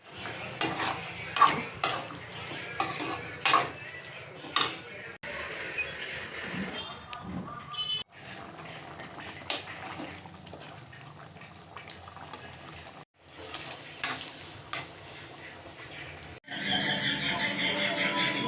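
Liver gojju frying in a kadai with a spoon stirring and scraping against the pan, sounds of pots and utensils clinking in a home kitchen, uneven bursts with pauses, some faint background noise.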